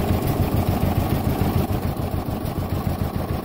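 A low, steady John Deere tractor engine idles nearby with a rhythmic chugging throb, continuous and fairly loud throughout.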